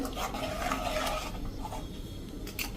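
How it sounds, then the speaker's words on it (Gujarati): Buttermilk batter for bajra flour khichu is stirred in a pot, giving a continuous close scraping and rubbing of a spoon against the metal with soft clinks throughout. "હવે આપણે છાશ ઉકળે ત્યાં સુધી હલાવવાની જ છે."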